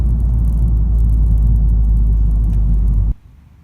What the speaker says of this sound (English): Three exhausts on the Type R, but only two are working for your audio excitement.